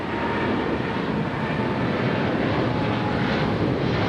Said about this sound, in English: As we get this 777 takeoff. China Southern Cargo, big 777.